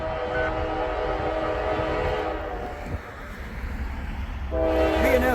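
A BNSF diesel freight locomotive rumbles past with its multi-tone horn blaring, the horn dropping out briefly mid-pass before sounding again, over a steady low diesel drone and rail noise.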